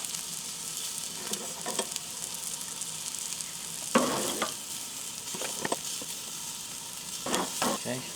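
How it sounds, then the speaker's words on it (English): Onions fry in a pan with a steady, quiet sizzle, broken by several sharp scraping bursts as they are stirred and moved, with no talking. "These onions are getting a little bit well done, so we're going to pull them."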